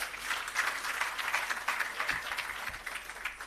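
An audience claps for the minister at the commissioning of the Parnassus irrigation system, a moderate, fairly distant round of applause with a steady patter of hands that fades slightly toward the end.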